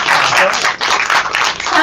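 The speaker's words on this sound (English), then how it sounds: "Give her a round of applause for that." Audience applause for an author in a yellow dress at a Los Angeles entertainment event, a dense, steady wash of many hands clapping close and loud for about two seconds with a brief dip midway.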